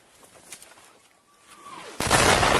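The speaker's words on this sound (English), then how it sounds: "A little artillery explosion there." An incoming artillery shell whistles in with a falling tone and then bursts in a loud, sudden blast in combat footage near the Kursk border, following scattered distant pops.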